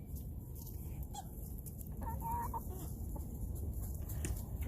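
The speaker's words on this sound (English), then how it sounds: "Here's my rooster, my newest baby rooster growing up." A young rooster and hens cluck softly and intermittently outdoors, faint and fairly close, over a steady background hiss with no talking.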